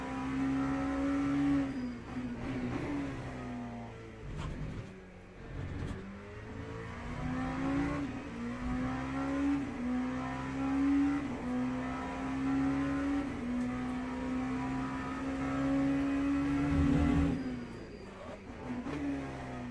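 A Ferrari 499 hypercar lapping the Le Castellet circuit in the Le Mans Ultimate racing game, its engine revving loud and close, climbing through gears with repeated shifts and dips on braking, continuous throughout.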